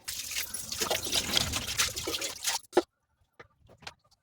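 Water poured from a vessel into gram flour batter mixed with salt and chili powder, a soft continuous trickling for a couple of seconds, then a few faint clinks and splashes in near silence.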